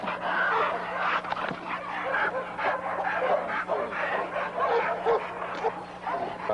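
Pit bull dogs fighting on a ranch during a morning walk: steady snarling and growling with a few sharp yips, continuous and close throughout, with a faint constant hum underneath.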